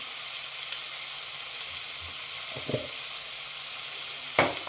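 Mashed ridge gourd sautéing in a pan for a Khandeshi-style bharit, a steady close sizzle with a couple of soft scraping stirs near the end.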